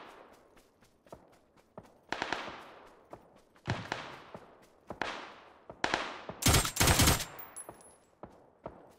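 Quick suppressed bursts from a Mutant rifle in a battle-royale shooter crack out in short clusters, each burst a tight string of muffled shots with decaying tails, and one louder sustained burst near the end.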